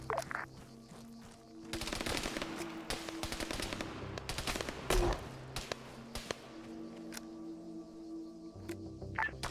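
Crossfire in the military game Arma 3 produces scattered bursts of sharp rifle and machine-gun shots, some near and some distant, in uneven clusters over a low background hum, with no talk.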